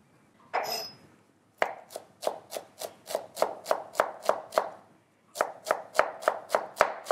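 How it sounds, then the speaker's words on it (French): A kitchen knife finely chops a peeled shallot for a squab stuffing, striking the board in two runs of quick, even taps separated by a short pause. A brief rustle comes before the chopping, and the sound stays close and clear with no talk. "Je vais éplucher une autre échalote et la ciseler pour pouvoir aussi la mettre dans la farce."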